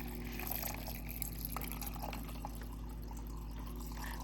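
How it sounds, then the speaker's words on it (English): Water and ice pour into a water bottle, a steady trickling fill with small clinks and splashes over a constant low hum, with no talking. "I know how much you guys love watching me fill my water"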